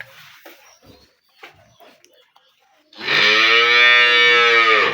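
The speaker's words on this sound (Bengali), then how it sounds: "গরুটা দেখেন একটা ডবল বডির গরু" At a cattle market, a large dairy cow lets out one long, loud, close moo in the second half, after a stretch of quieter background chatter and bustle.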